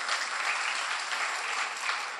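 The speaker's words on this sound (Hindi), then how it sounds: "देखिए, एक बार इनके लिए ताली बनती है," Loud, sustained audience applause at a kavi sammelan and mushaira poetry recital, a dense unbroken roar of clapping from a large crowd with little variation.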